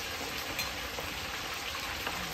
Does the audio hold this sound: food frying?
yes